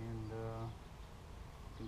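Honey bees buzz at an open beehive while a brood chamber is added on a bee farm. A close, droning hum lasts under a second, then fades into softer background buzzing.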